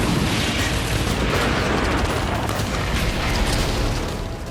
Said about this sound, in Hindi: ताबड़तोड़ गोलियां चल रही हैं।